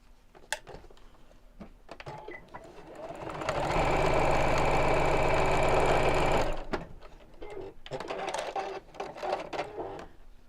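A sewing machine runs a steady, fast stitching burst lasting a few seconds as lining fabric is sewn onto a zip, with quieter handling clatter and faint talk before and after.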